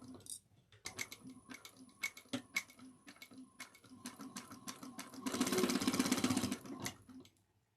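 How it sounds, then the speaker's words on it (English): Sewing machine stitching bag seams at 3/8 inch with backstitching, beginning as slow, separate needle clicks that quicken into a dense run, then a louder sustained whir before it stops, close and fairly quiet. "We're going to sew these at 3/8 of an inch."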